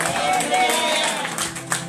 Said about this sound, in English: Come on, clap for yourself